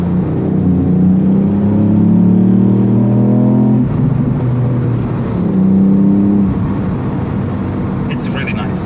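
A 2018 Ford Fiesta ST with the 1.5 EcoBoost engine pulls hard in race mode, engine note rising through the revs, dropping at a shift, then climbing again, with someone talking over it.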